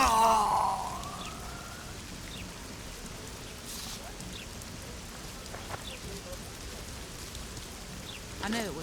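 Steady rain falls in The Witcher 2 game world, a soft even hiss throughout with faint distant cries and a brief swell at the start.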